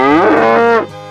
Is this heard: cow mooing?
yes